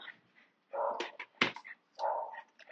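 A frightened dog that has come looking for shelter gives close whimpers and short yelps in separate bursts, with quiet gaps between them.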